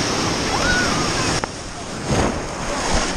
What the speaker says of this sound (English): this is like the wave pool, but a little bit bigger